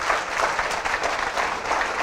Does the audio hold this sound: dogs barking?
no